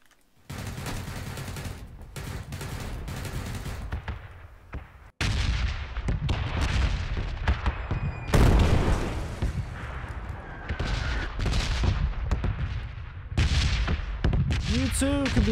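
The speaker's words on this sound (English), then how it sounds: "You too can be deafened by explosions by PUBG" Explosions and gunfire roar through a PUBG battle, with dense bursts of shots, heavy booms and sharp cracks that keep coming almost without pause for the whole stretch.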